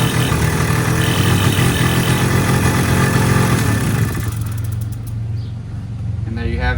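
An old Puch moped engine idles with a rough, steady putter up close, then fades down toward the end while someone talks over it.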